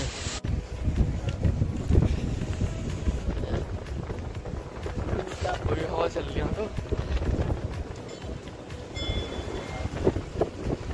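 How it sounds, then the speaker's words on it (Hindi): Strong wind blows outdoors at the crowded Maa Girija Devi temple, buffeting the microphone with a continuous rough roar, with muffled voices underneath. "हवा चल रही है बहुत तेज।"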